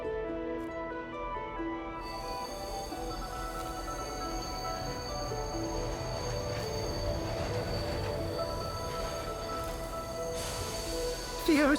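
A train rolls into a station, wheels screeching and rumbling steadily throughout, loud and close, with a brief louder burst near the end.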